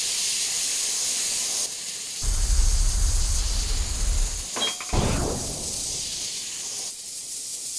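Airbrush spraying paint onto a soccer ball: a steady, close hiss of compressed air that swells louder for a few seconds and then eases back, alone without talk.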